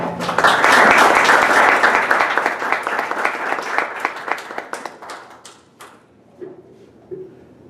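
Audience at a book presentation applauding the editor, a burst of hearty clapping that swells then thins out into scattered claps before fading to near quiet.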